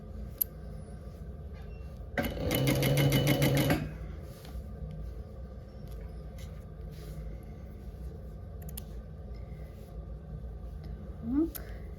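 A three-thread overlock machine runs in one fast, steady burst of about two seconds, sewing the shoulder seam of a hoodie, then falls quiet amid light handling noise in a quiet room.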